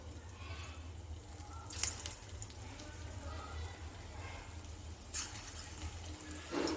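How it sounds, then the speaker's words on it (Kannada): Onion bonda batter drops into hot oil in two soft splashes, which then settle into a faint, steady crackling hiss. "ಸ್ವಲ್ಪ ಸ್ವಲ್ಪ ತಗೊಂಡು ಎಣ್ಣೆಲಿ ಬಿಡ್ತಾ ಇದ್ದೀನಿ"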